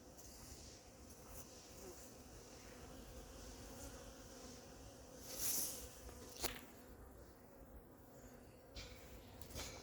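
Honeybees around a hive during feeding make a faint, steady buzzing hum that lasts throughout, with a couple of brief louder passes of a bee flying close.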